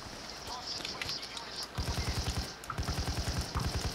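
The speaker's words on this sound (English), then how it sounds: "I'm almost out of ammo with my AK again." Automatic AK rifle fire in the shooter video game PayDay 2 rattles out in two sustained bursts of rapid shots after a quieter opening, loud and close.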